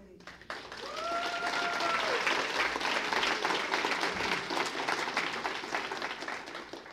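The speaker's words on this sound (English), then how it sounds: "you guys are applauding me in here" An audience applauds a speaker on the political left, dense steady clapping that swells and holds. A few voices whoop briefly near the start.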